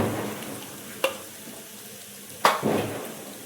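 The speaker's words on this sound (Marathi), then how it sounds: "हे परतून घ्यायचं आहे।" Ginger paste masala with turmeric, red chili and salt sautéing in a pan for a peanut amti, a soft continuous sizzle broken by two sharp utensil scrapes against the pan.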